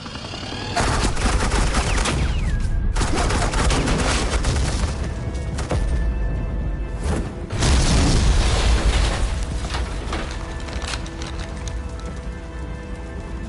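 Sustained bursts of automatic gunfire from Joker's agents in the Batman Telltale game, dense overlapping volleys that swell and subside across the span with booming impacts, loud and continuous, no talk over them.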